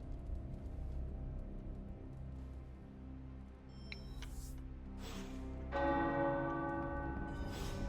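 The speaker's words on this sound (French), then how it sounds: "Les cloches. J'adorais les faire sonner quand j'étais enfant." Church bells toll in the video game Marvel's Midnight Suns, starting faint and distant, then swelling into several louder, resonant strikes that ring out and linger, with no talking.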